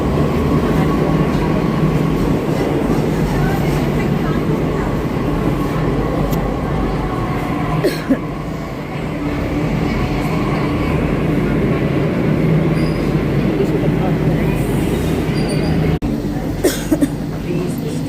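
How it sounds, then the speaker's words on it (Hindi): A metro train pulling into a station, its steady loud rumble and rail noise filling the scene with a brief sharp squeal near the end, while someone talks over it. "गाइस मेट्रो देखिए आ चुकी है, मुझे इसी में ही जाना है मेट्रो में।"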